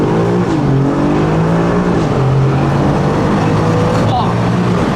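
A supercar rated at about 3.9 seconds to 100 km/h accelerates hard, its engine rising in loud sustained revs with a sharp shift partway through, heard close from inside the cabin.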